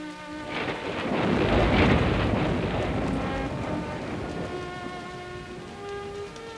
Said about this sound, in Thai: ฝนตกหนักนี่นะ